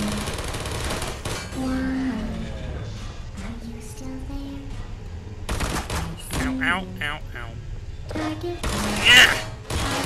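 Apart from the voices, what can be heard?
turret gunfire in video game Portal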